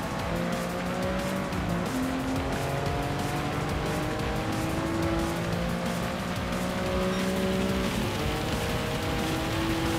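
Gran Turismo racing game with a 1988 Lamborghini Countach 25th Anniversary on a wet track: a loud, steady engine drone with shifting gear pitches runs throughout, mixed with a constant wash of rain hiss and tire noise.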